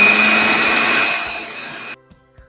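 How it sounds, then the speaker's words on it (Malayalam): A kitchen mixer grinder grinds soaked rice with a loud, steady high whine that winds down and cuts off abruptly near the end, followed by a couple of faint knocks. "ഞാനതിൽ കുറച്ച് അരി എടുത്ത് ഞാൻ മിക്സിയിലേക്ക് പകർന്നിട്ടുണ്ട്"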